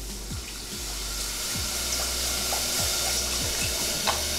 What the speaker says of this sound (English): We're gonna add our stock to it.